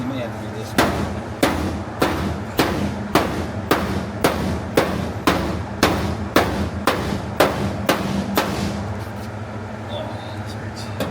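Steady hammer blows beat on the steel rear quarter panel of a 1980 Ramcharger, about a dozen evenly spaced metallic strikes ringing close and loud in a regular rhythm.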